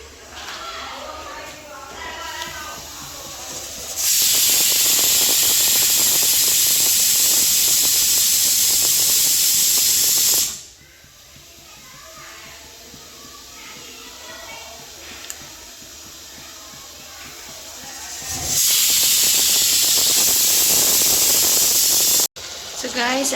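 Loud bursts of hissing steam from a pressure cooker cooking rice porridge, a long spray of high hiss that stops abruptly, then returns after a quieter stretch with kitchen clatter.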